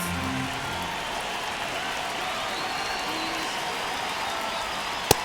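A ballpark crowd keeps up a steady, dense roar during a one-run ninth inning of a Nationals vs. Rockies MLB game, with one sharp click near the end.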